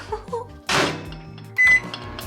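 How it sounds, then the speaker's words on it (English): A microwave oven heating noodles gives a burst of noise, then a short high electronic beep, among faint kitchen clatter and handling sounds. "I'm gonna nuke these in the microwave for a little bit and enjoy them."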